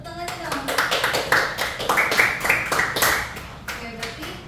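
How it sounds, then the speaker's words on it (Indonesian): Students in a classroom clap for a presenting group during a microteaching session, a brief patter of hands heard under overlapping talk that continues throughout. "terima kasih kelompok 2, tepuk tangan dong"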